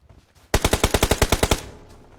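Automatic gunfire in a video game: a single rapid burst of about a dozen evenly spaced, punchy shots, loud and close, after a quiet moment, then fading back to near silence.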